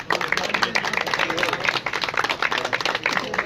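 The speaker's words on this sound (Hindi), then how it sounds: "तालियां आनी चाहिए जी इनके लिए" Audience applause for a young player being awarded a prize at a pigeon-flying record event, dense steady clapping throughout, fairly close and moderately loud.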